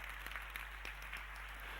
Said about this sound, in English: please give a warm applause for Jane Walerud, Ted Valentin, and Fredrik